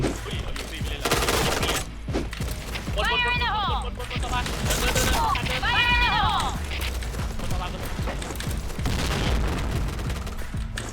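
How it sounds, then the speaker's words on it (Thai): Rapid bursts of Uzi gunfire in the online shooter Point Blank ring out continuously, with dense, loud game effects and a voice talking over the shooting. "ใครจะโดนปืนยูซี่ผม"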